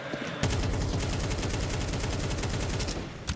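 Rapid, dense gunfire fills a Counter-Strike match at the IEM Kraków 2026 playoffs, a sustained barrage of overlapping shots that bursts in abruptly after a brief quiet moment and stays loud and continuous until it tapers off near the end.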